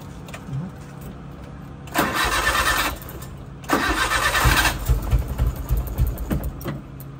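A car engine cranks and tries to start in two loud bursts, one lasting about a second and the other about two seconds, with a faulty ignition coil. Low rumbling continues between and after the bursts, and there is no talk.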